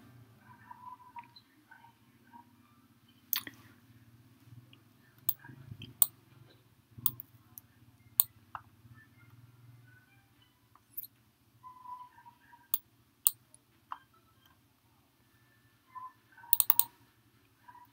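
A computer mouse clicks sharply and sparsely at close range while files are downloaded, with single and quick double clicks scattered over a quiet, faintly humming room.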